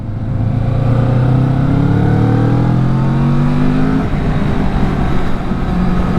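A 2024 Kawasaki Vulcan S motorcycle engine accelerating, a steady close engine drone rising in pitch through the gears, loud and continuous with no talk.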